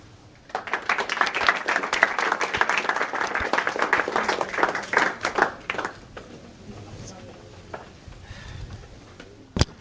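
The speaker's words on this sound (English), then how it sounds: "Let's just give another little round of applause here for our speakers." Audience at a museum panel discussion applauding the speakers, a burst of dense clapping for about five seconds that then fades out into room quiet, with a voice heard toward the end.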